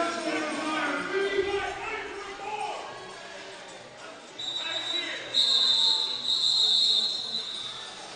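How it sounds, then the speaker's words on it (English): A referee's whistle blasts at a roller derby bout, two shrill bursts in the second half, the longer one sustained, over ongoing announcer talk and arena crowd noise. "This is where we need Jim's help to decipher what this call was with the whistle"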